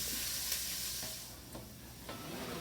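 Garlic sautéing in a hot pan for a veggie chili, a steady close sizzle and hiss with a few faint spoon scrapes and stirring knocks, quieting slightly midway before building again.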